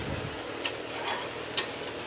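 Spices frying in a wok and being stirred, a steady sizzling hiss with two sharp metallic clinks of the spoon against the pan.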